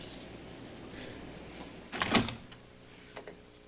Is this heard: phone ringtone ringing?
no